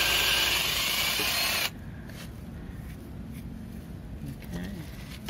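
A power drill bores down through a timber boom and a backing block, a loud, dense whine lasting under two seconds before cutting off abruptly, leaving quiet room noise with faint handling sounds.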